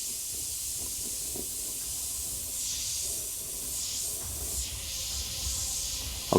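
An airbrush sprays transparent black paint freehand onto a skull design, giving a steady, soft broadband hiss that runs continuously with gentle swells in intensity, faint and close, with no voices.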